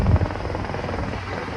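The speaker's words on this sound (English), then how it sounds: "you have a helicopter, not military, but it's a helicopter" A civilian helicopter flies at night over the Mediterranean coast at Netanya, Israel, its rotor making a steady, low, throbbing drone that is moderately loud and continuous, with no speech.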